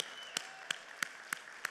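At the opening of the 10th BRICS Leaders' Summit in South Africa, five evenly spaced claps ring out in slow rhythm, faint and somewhat distant over a quiet room murmur.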